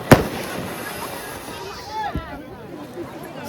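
Firecrackers go off in a crowded street in Mandvi: one sharp, loud bang right at the start, then a softer second pop about two seconds later, over constant crowd babble and outdoor hubbub.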